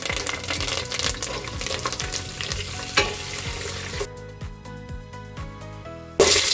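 Steady sizzling of cumin and curry leaves in hot oil with sharp crackles and clinks from stirring, then a louder burst of hissing at the end.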